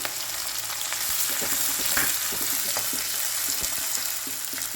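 Sliced large onions and curry leaves sizzle steadily in hot frying oil, a loud continuous crackling fry with occasional stirring, close up and without talk.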